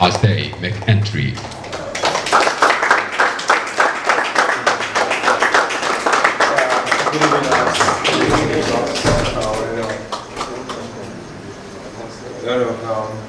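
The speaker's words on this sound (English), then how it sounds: "A round of applause as they make entry." Studio audience clapping and cheering as housemates enter a reality TV show house, with a host's voice talking over the dense applause throughout.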